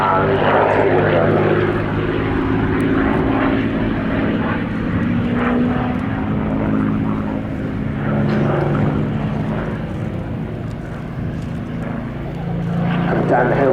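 Spitfire fighter aircraft on a low flypast at a display, its piston engine roaring loud and steady as it gains speed, with a broad rumbling drone and shifting pitch throughout.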